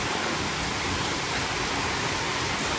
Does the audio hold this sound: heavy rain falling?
yes